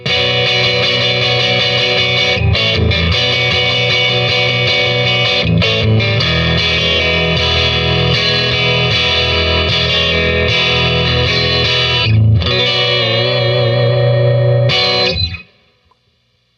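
Fender Mustang electric guitar with both pickups combined in parallel, played through distortion and modulation effects, rings out loud and sustained with chords for about fifteen seconds before cutting off abruptly into silence.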